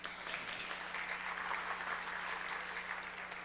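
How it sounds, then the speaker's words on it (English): Sustained applause from a forum audience in a large hall with balconies, steady and moderately distant for the whole stretch, with a low electrical hum underneath. "you definitely deserve a round of applause for coming"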